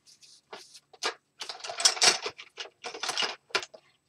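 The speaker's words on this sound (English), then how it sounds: "So this just screws on and there's my there's my spindle" A spindle is screwed onto a spinning wheel, giving an irregular run of small close clicks, taps and ratchety rattles with brief pauses and no speech.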